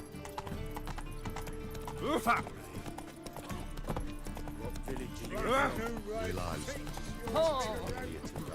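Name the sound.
horse Roach running in Witcher 3 video game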